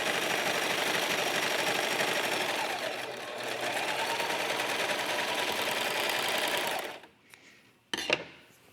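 A serger sewing machine stitches a sweater seam with a fast, steady, close mechanical whir that runs for about seven seconds, then stops, followed by a couple of faint handling clicks.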